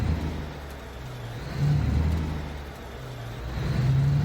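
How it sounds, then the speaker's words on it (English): A lorry engine hums and rises in a truck-driving video game set on Alaskan roads. A steady low drone swells twice as it revs and pulls, with no talk over it. "Feels weird driving a lorry on paddle shifters."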